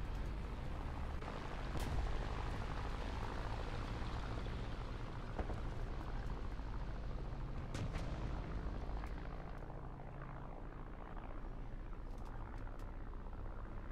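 Dense rumbling battle noise from the War Thunder tank video game, featuring the Swedish IKV 91 tank, with a few sharp shot cracks standing out against a continuous low roar.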